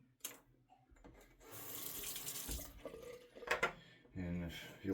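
A tap runs into a sink while a razor is rinsed, a steady splashing flow with clinks and handling noises, and a voice speaks briefly over it.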